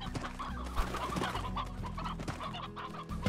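Flock of chickens in the farm video game Slime Rancher clucks continuously in a busy, overlapping chorus, fairly close and steady throughout.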